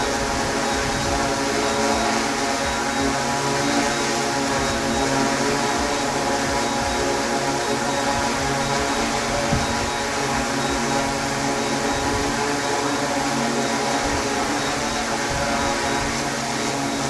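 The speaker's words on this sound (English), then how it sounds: "There's no flight time remaining at all on the Inspire 3, it's still in the air." A DJI Inspire 3 drone hovering indoors near the end of its battery, giving a steady, dense propeller whir and buzz with fine tonal bands, constant and fairly loud throughout with no talking.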